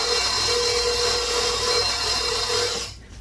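An electric mixer whirs loudly and steadily up close, beating a chocolate eclair pudding filling for about three seconds before cutting off abruptly.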